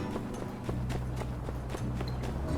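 Horse hooves clip-clop at a steady walking rhythm while riding in the game My Time at Sandrock, even and close over a low background music bed.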